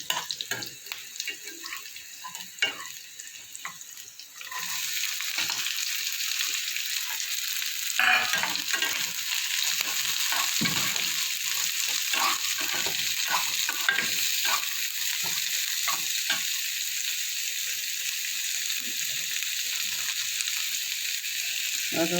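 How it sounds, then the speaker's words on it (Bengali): Chopped onions go into a pan of garlic frying in oil for a Bengali pumpkin-peel paste, a steady close sizzle that grows louder after the onions land, with occasional stirring scrapes. "এবার আমি দেবো কুচনো পেঁয়াজ"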